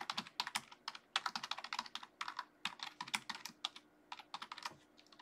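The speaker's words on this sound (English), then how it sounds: "And we type" Fast, continuous typing on a computer keyboard, dense bursts of crisp keystrokes with short pauses, close and clear with no talking.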